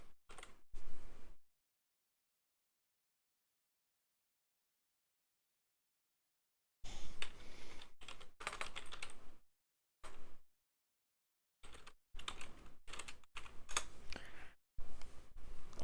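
Keys clatter on a computer keyboard while someone types into a chat during an Asphalt 9 Legends racing session. The keystrokes come in quick bursts, close and crisp, and long silences separate them.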